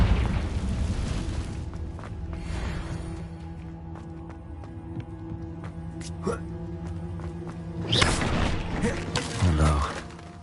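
A Confringo blasting spell going off in the video game Hogwarts Legacy, with low booming rumbles and bursts and a strong blast near the end over game sound, while a person talks over it.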